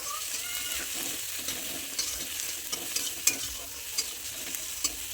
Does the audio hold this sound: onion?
yes